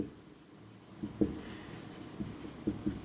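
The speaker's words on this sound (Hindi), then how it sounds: "अब देखिए उसको मैं लिखता हूं" Chalk or marker writing on a classroom board during a lesson, a series of short scratchy strokes and taps scattered irregularly over a few seconds, fairly close and moderate in level with no talk.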